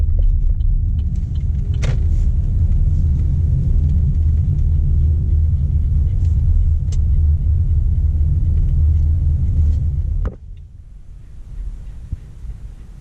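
A 2017 Chevy Bolt EV rolls along the road with a steady, loud low rumble of tyres and cabin hum, a few faint clicks on top, then the noise drops sharply near the end as the car slows or quiets.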